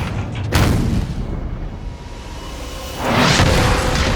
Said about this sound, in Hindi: गोलों की बौछार सीधे आगे के हिस्से पर लगती है।